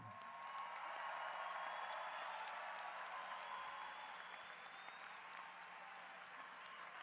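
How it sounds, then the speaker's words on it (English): Fairly faint, distant applause from a graduation audience for the senior class of 2018, a steady wash of clapping that holds evenly and eases slightly toward the end. "how about one more round of applause for these amazing senior class of 2018"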